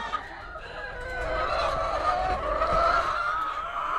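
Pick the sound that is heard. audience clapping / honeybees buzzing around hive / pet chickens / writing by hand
pet chickens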